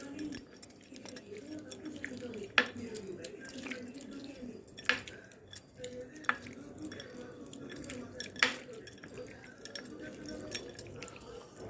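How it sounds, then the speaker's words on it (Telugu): Raw prawns are mixed by hand with turmeric and ginger paste, giving soft, wet squishes and light clicks in an irregular rhythm, close and fairly quiet under a woman's spoken cooking instructions. "చిటికెడు పసుపు, కొంచెం అల్లం పేస్ట్ కొద్దిగా సరిపడినంత వేసుకొని మిక్స్ చేసుకోవాలి"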